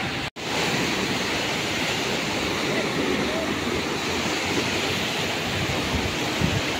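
A strong, fast-flowing river in Mawab, Davao de Oro, rushes in a steady broadband roar close to the microphone after a brief dropout at the start, with no clear speech.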